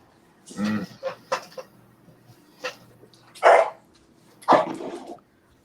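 A dog barks indoors at home, a run of sharp, close barks in irregular bursts with short gaps, loud and alone without talk.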